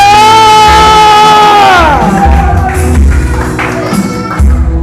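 A worship congregation shouts and cheers loudly in praise, a swelling rising cry of many voices with clapping and crowd roar layered beneath, very close and intense.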